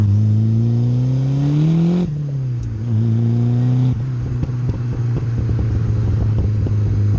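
A 1985 Ford Escort Series 1 RS Turbo, a front-wheel-drive turbo car, accelerates hard on boost, its engine note climbing through the revs, dropping at gear changes, then pulling again. The drone is loud and close, with no talk.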